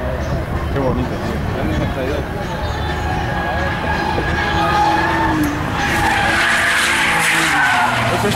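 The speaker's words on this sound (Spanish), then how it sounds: "Eso sí suena a M3." A BMW M3 race car engine roars and whines past with skidding tire noise during racing practice, loud and continuous, while voices talk underneath.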